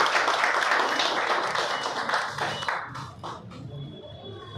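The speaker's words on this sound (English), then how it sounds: "let's give a round of applause." Thick applause fills an inauguration ceremony for an advanced renal transplant facility in Mylapore, then thins to a few scattered claps and soft thumps as it dies away.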